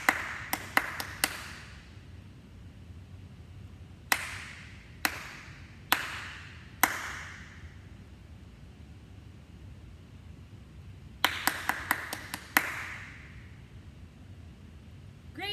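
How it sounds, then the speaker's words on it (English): Hands clap out short rhythmic patterns in separate groups: a quick burst of four or five claps, then four evenly spaced claps, then another rapid cluster. The claps are sharp and close against a quiet room. "I'm going to clap a beat, and then you are going to repeat."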